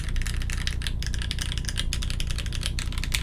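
Steady, rapid clacking of keys typed along the shift row of a Keycult No2 mechanical keyboard, close and crisp with a slightly deeper tone, heard alone with no talking.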